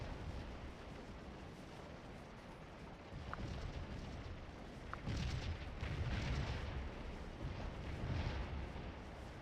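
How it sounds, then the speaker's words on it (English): Artillery fire in the Civil War strategy game Scourge of War: Antietam, a low continuous rumble of distant cannon booms swelling and rolling under a constant wind-like background, with no talking. "Brigades are just sitting there taking artillery fire."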